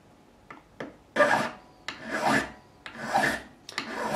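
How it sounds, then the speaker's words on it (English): A hand file rasps in long, even strokes across a guitar fret to bevel its edge on a 1992 Fender Japan Strat, with four or five loud, close scraping passes separated by short pauses and a few light taps. "I'm going to hand file and hand bevel this fret"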